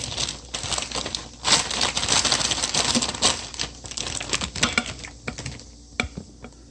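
A crumpled plastic multipack wrapper of Ottogi pollack soup ramen is handled, giving a dense run of crisp crinkles and sharp clicky crackles, close and fairly loud, with no voice over it.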